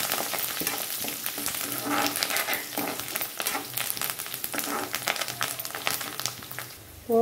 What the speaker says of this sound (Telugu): ఇప్పుడు కరివేపాకు, ఇది బాగా వేగాలి పోతు